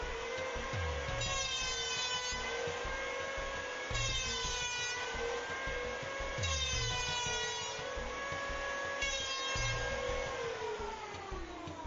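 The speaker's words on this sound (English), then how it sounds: "Using an electric planer, we suggest that you use no more than a" An electric planer shaves wood for a gate on a workbench, with a sustained high whine and roughly regular passes every few seconds, each starting with a rising, rougher cutting sound, fairly faint and alone.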